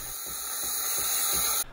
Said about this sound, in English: well, you just get a lot of steam